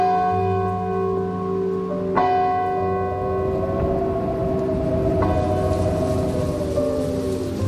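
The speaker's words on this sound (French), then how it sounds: "Les cloches de la cathédrale sonnent 20h." Cathedral bells toll in an old town at eight in the evening, ringing strikes that leave long, sustained humming tones layered over one another, loud and resonant with no voices.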